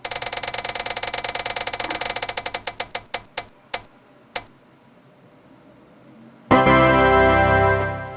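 An online spinning wheel picker choosing a book from a TBR list spins with a rapid ticking that slows into sparse clicks and stops, then loud music bursts in.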